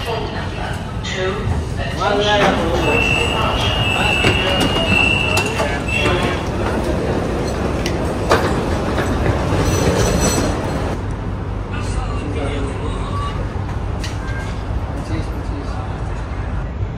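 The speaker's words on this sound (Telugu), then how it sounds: "మన మెట్రో కూడా వచ్చేసింది" A Delhi metro train pulls into an underground station, several floors below ground. A loud rolling rumble and rattling wheels with some squeal build and then ease as the train slows. People talk over it.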